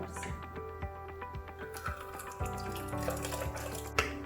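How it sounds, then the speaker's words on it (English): Tea with a little honey being poured into a mug, a close, uneven splashing trickle with small clinks, ending in a brief spill and a sharp knock near the end. "And now we can pour in our tea."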